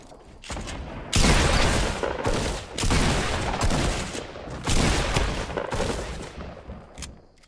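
Game gunfire from a team shooter match with a grappling-hook character, in dense fusillade bursts that come in several waves across the clip, loud and close, with a brief lull between volleys.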